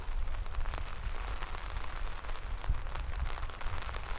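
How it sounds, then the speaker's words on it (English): Rain falls steadily on an outdoor disc golf course, a dense even hiss with scattered drops, continuous and fairly loud with no talk. "here comes the rain again"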